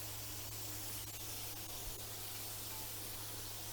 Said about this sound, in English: So we're getting our pan hot here. Throw a shitload of butter in there.